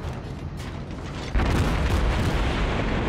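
Dense, continuous roar of a battleship's massed guns firing a barrage in the World of Warships naval combat game, jumping to a louder, heavier rumble partway through and holding there with no speech.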